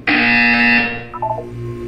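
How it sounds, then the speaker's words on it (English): A loud, harsh electronic buzzer sounds in a Portal 2 test chamber, one sustained blast close up that cuts off after about a second, followed by quieter mechanical tones. "You will hear a buzzer."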